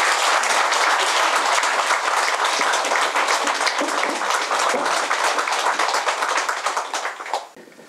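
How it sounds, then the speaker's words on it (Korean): Loud, sustained applause from a large crowd welcoming a monk to give a Buddhist dharma talk, steady for several seconds before fading out at the end. "큰 박수로 좀 환영을 해주세요."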